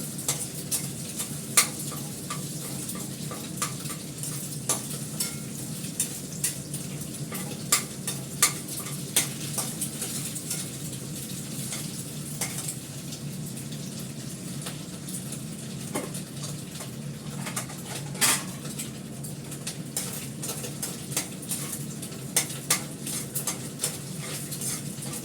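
A tempering for masoor dal sizzles steadily in hot oil, with scattered metallic clicks and scrapes of stirring. The sound is continuous and fairly close, with no talking.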